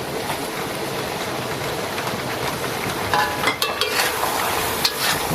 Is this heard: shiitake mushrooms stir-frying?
yes